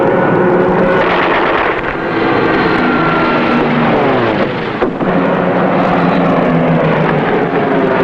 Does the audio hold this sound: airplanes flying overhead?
yes